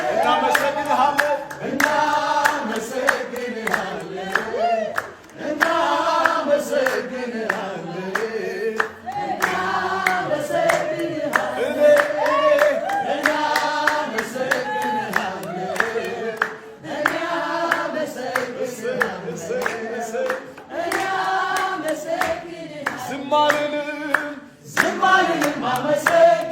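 Rhythmic group clapping keeps time alongside singing voices, steady and sustained throughout with only brief pauses.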